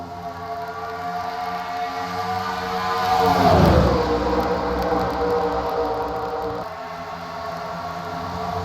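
Stock cars racing at Pocono just after a green-flag restart, a dense engine roar that swells as the pack passes near the middle and then settles into a steady drone.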